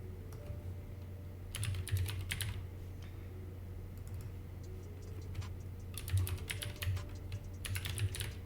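Clattering keystrokes on a new computer keyboard come in uneven bursts of fast typing with short pauses, close up and steady, with no talking.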